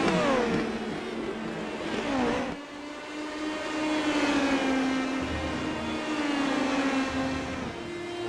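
A single-seater Indy Pro 2000 race car in the iRacing sim holds a steady high engine whine, then the throttle lifts briefly and the revs climb again, loud and continuous with no talk.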